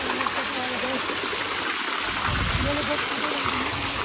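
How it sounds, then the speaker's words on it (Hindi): Water falls steadily from a waterfall at Deul Park, an eco resort in Durgapur, West Bengal, making a continuous broad rushing wash with a person talking over it. "ये पानी झरना से गिर रहा पानी, बहुत ही खूबसूरत नज़ारा"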